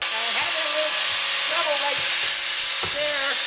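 A vacuum cleaner with a belly attachment runs steadily with a loud, constant motor whine and airy hiss, while someone talks over it close by.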